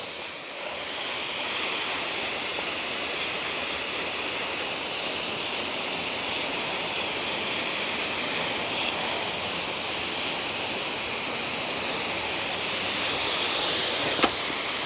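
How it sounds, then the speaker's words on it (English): Water from a garden hose sprays steadily over potato plants and flower beds, a continuous loud hiss of spray lasting throughout with no talking. "Then I'm going to get the hose"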